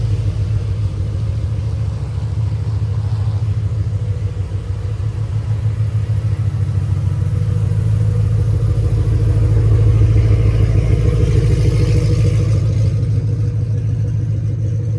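A 2024 Ford Mustang GT running as it is pulled out, a loud, close, deep rumbling engine idle with a steady throbbing pulse that rises slightly in intensity and fades toward the end.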